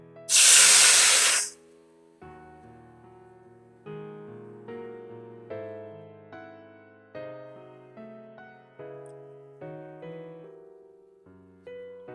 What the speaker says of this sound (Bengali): যে পেস্টটা করেছিলাম ওটা হচ্ছে সরিষা লঙ্কা হলুদ সব কিছু একসঙ্গে জল করে রেখেছি ওটা আবার তেলে দিয়ে দেবো